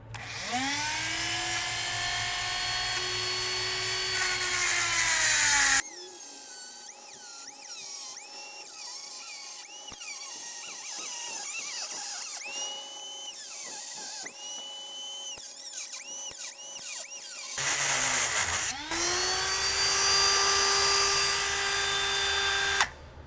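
A small Dremel rotary tool cutting a stuck bearing race out of an RZR wheel hub: a loud, close, high-pitched whine that rises and falls as the cut loads and eases, with gritty grinding bursts.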